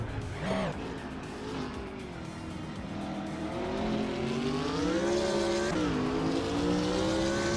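A 1998 Mercedes-Benz CLK GTR race car in a racing video game, its engine whining steadily and rising in pitch as it accelerates, with a gear shift near the end, loud and continuous.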